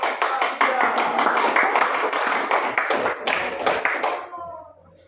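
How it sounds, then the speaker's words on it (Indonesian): A classroom of students applauding group 3, a loud, busy burst of many clapping hands that holds steady and then tapers off as some voices come through near the end. "berikan tepuk tangan untuk kelompok"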